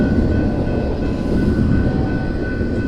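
A train rumbles steadily past at close range by the 1911 Chehalis train station, a continuous heavy roar with faint wheel rattle and no voices.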